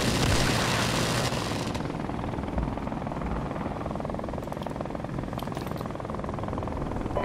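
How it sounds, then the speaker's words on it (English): A UAV flies overhead in Modern Warfare Remastered with a dense, rotor-like whirring drone. A louder rush at the start settles into a steady, continuous hum. "Enemy UAV is airborne."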